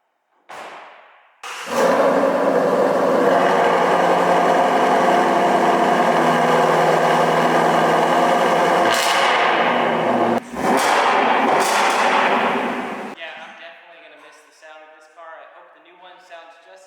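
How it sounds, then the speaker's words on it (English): A 2021 Ford Shelby GT500 with a Gorilla attack exhaust makes a cold start, cranking, then a loud roar settling into a heavy, steady high idle with a couple of blips before the engine fades down near the end. "give this Shelby behind us one more startup and listen to that Gorilla attack exhaust"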